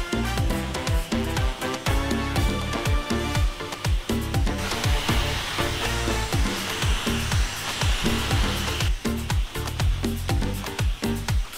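A hand-held hair dryer blows continuously at close range in a barbershop while a client's hair is dried, its steady whirring drone running throughout beneath background music.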